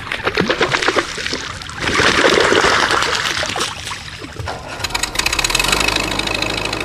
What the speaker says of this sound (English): this tractor, when you turn it off, it comes to rest with a sort of sigh through several revolutions